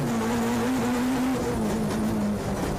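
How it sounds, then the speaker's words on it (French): A Peugeot 206 F2 rally car runs during the 2014 Rallye des Cévennes, its engine holding a loud, steady note that wavers slightly throughout, with no talk. "là on voit à l'écran Yannick Vivens sur sa Peugeot 206 en catégorie F2"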